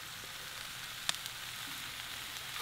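Fresh garden rosemary, sage and thyme sizzle gently in a hot pan, a soft continuous frying crackle with one sharp pop, steady and close without speech.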